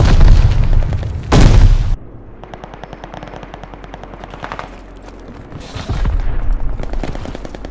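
Call of Duty Vanguard firefight, with the Charlton Automatic Rifle in play: loud booming grenade blasts open the scene, then rapid automatic gunfire rattles in quick bursts, with another heavy blast rising near the end.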